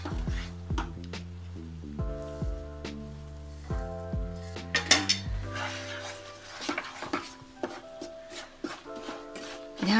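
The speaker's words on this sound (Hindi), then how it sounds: "थोड़ा थोड़ा करके हम डालना शुरू करेंगे। डालते रहेंगे और इसे चलाते रहेंगे।" Makhana (fox nut) powder is added bit by bit and stirred in a kadhai, making repeated close scraping and metallic clinks over a steady run of sustained musical tones.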